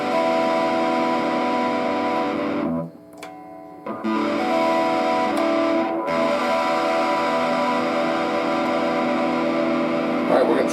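A distorted Fender Stratocaster electric guitar rings out loud and sustained, dropping briefly to a thin tone before the fuzzy, harmonically rich chord returns.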